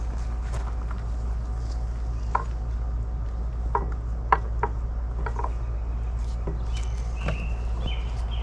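Ratchet straps being tightened around a log for a tenon cutter, with scattered clicks and ratcheting ticks over a steady low engine hum outdoors, no talking.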